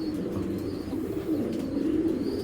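Giribaz pigeon giving soft, low throaty coos close by, a steady murmuring call running without a break.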